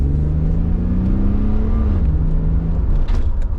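A Toyota Z10 Soarer drift car engine runs up close with a steady drone that rises in pitch, dips as it shifts, then keeps humming.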